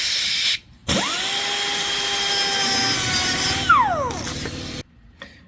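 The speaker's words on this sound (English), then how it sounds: "we're going to take the ends here and we're going to sand them so they're nice and smooth on both sides" Cut ends of a nylon throttle body cable liner for a Celica being sanded with a power tool: a steady, close motor whine with a rising pitch sweep near the end, then it stops abruptly.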